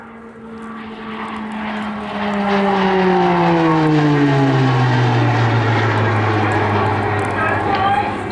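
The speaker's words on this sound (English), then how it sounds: "That distinct noise you'll hear throughout the display is the operated Garrett TPE turboprop engine" The Garrett TPE turboprop engine of an RAF Tucano T1 drones loudly as it passes overhead during an airshow display at Southport in 2019, its pitch sliding steadily downward while the roar swells and holds.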